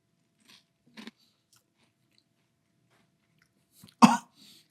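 Malt-O-Meal Key Lime Pie Crunch cereal is crunched close up, with a couple of faint bites early on and then one loud crisp crunch followed by softer chewing, and no talking.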